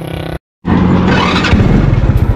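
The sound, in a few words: vehicle engine warming up before riding home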